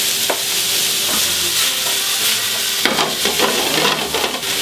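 Onions and leeks sweat gently in a frying pan for a lamb stew, a loud continuous sizzle with stirring scrapes growing busier toward the end, no voices.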